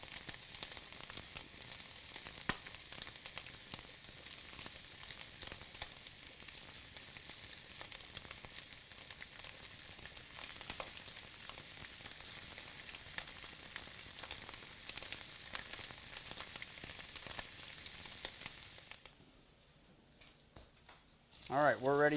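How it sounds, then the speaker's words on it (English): Shrimp fry in a hot pan with a steady, close, bright sizzle that runs for about twenty seconds, then quiets sharply near the end. "we're ready to add our shrimp. I'm going to watch for popping just because there is moisture in your shrimp."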